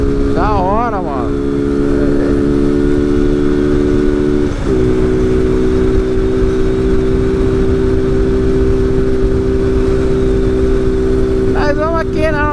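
A Kawasaki Z750 motorcycle engine drones steadily close by while riding down a mountain road near Águas da Prata, its pitch holding then shifting, with faint whining revs and a voice speaking over it.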